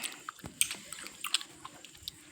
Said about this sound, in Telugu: మా దుడ్డు బాబు సాయికి కుక్క బిస్కెట్ తినడం ఇష్టం.